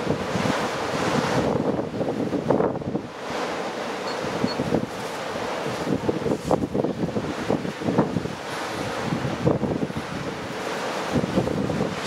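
Strong outdoor wind gusts of around 70 mph roar and buffet the microphone continuously, with fluctuating loud rushing noise throughout and no speech.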